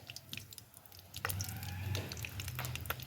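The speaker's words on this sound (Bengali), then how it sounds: "পাঁচফোড়ন আর শুকনো লঙ্কা ফোড়ন দিয়ে দিলাম" Five-spice and dried red chillies are dropped into hot oil left from frying small puti fish, setting off a sudden close crackle and sizzle that continues steadily after a quiet start.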